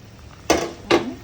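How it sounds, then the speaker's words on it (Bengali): Fried fish heads being stirred into a simmering curry in a pot, giving two distinct scraping clanks about half a second apart over a low background hiss. "এখন হচ্ছে নাড়াচাড়া করব কিছুক্ষণ"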